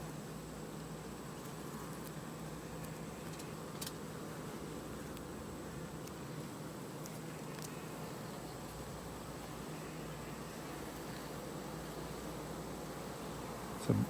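A large, calm honeybee colony in a few-months-old elevated hive hums with a continuous, even buzz of many bees at close range. The drone is steady, with only faint clicks now and then.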